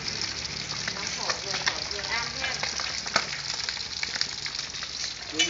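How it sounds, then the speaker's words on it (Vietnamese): Fish frying in a pan at a small breakfast eatery: a steady, dense sizzle and crackle of hot oil throughout, close and loud, with a person talking over it. "Đây, cơ bắt đầu là chiên cá này."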